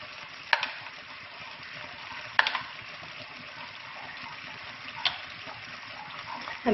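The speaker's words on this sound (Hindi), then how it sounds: "अब मैं इसे अच्छे से मिक्स कर लूँगी।" A spoon stirring tamarind chutney into chana chaat in a bowl, a soft continuous wet churning with a few sharp clinks of metal on the bowl, close and alone with no talking.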